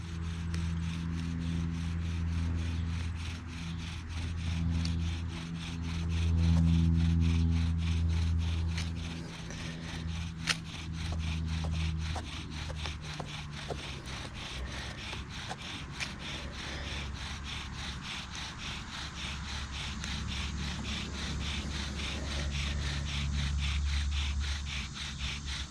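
A bow drill spun with green nettle cordage for primitive fire making, the cord slipping and stretching, makes a steady, close rhythmic rubbing and creaking that runs throughout, with a low back-and-forth drone and no talk.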